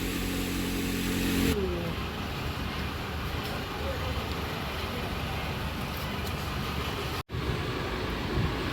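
A diesel truck's engine rumbles steadily and fairly loud as it pulls away, a dense low roar that holds throughout with one brief dropout near the end.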